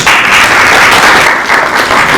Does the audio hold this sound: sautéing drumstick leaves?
no